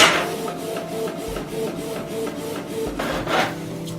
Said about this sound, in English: print it without any scaling so that it is the correct size